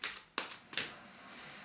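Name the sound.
shuffling Magical Unicorn Oracle cards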